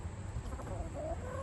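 Chickens cluck softly and briefly near a new Premier 1 poultry waterer, faint and low over steady background noise.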